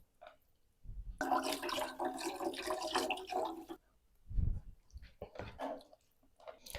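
Tap water runs in a strong continuous stream for about three seconds while a mackerel fillet is rinsed under it. Short splashes and handling clatter follow once the flow stops.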